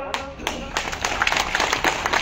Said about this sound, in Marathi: आता तुम्ही टाळ्या वाजवल्या